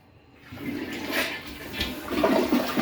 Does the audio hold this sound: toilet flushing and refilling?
yes